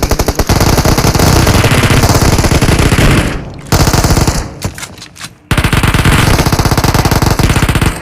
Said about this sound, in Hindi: थोड़ी सी गोली मारता हूँ और वो मर जाता है